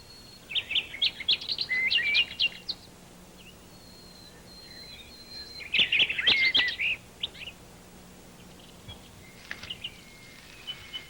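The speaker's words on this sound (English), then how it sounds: "you may hear the rich song of a nightingale" Rich, varied song of a male nightingale in spring, heard as two dense bursts of chirps and trills with a fainter phrase near the end, moderately close against a quiet background.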